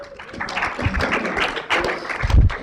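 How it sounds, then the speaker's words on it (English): A small audience claps in a room, a loose, uneven burst of hand claps with some murmuring and a low thump toward the end. "Everybody give Nelson a round of applause."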